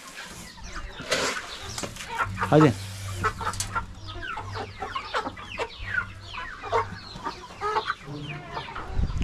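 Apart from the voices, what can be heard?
chickens clucking while being fed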